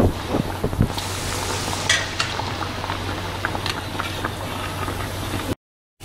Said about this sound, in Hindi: ये दूसरी पेटीज भी फ्राई कर लेंगे। इसको भी हमें मीडियम गैस पे ही फ्राई करना है